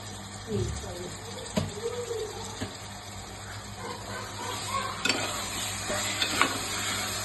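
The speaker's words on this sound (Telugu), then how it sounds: "బాగా కలుపుకోండి." Mutton curry with turmeric and rock salt is stirred in a pan, a spoon scraping and knocking now and then over a low, steady sizzle, fairly quiet.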